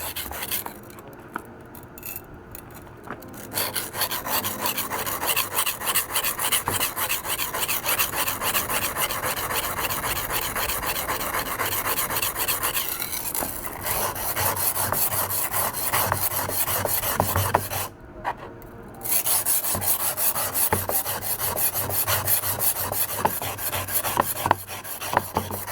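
Steady rasping strokes of a freehand knife sharpening on a kitchen knife with a 3mm damaged edge and tip, continuous and close, with a couple of brief pauses.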